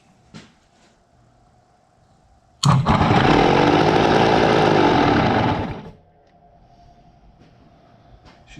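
A 1973 Yamaha AT3 motorcycle engine fed starter fluid fires up suddenly and runs loud and close for about three seconds, then cuts out, leaving a faint background hum.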